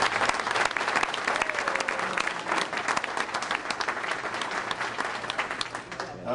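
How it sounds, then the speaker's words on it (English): Sustained applause from a reunion audience, dense and steady throughout with crowd murmur mixed in, fairly loud and close. "would everybody please give a really strong round of applause for them and for appreciation"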